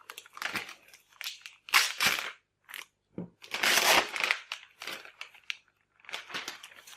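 Packaging around a Wacom Intuos tablet is unwrapped up close, producing irregular bursts of crinkling and crackling plastic and paper separated by brief quiet gaps.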